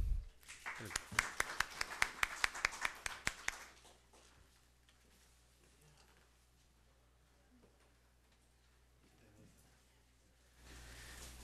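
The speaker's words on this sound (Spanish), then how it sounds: "Le brindamos un fuerte aplauso." A short burst of applause from a small audience at a public policy talk, brisk claps for about three seconds before fading into quiet room noise.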